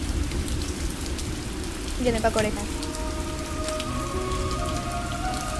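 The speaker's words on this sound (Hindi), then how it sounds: "बारिश इतनी तेज़ हो रही है" Heavy rain pours steadily on a surface as a domestic scene plays out, a constant hiss under a voice speaking briefly in the middle.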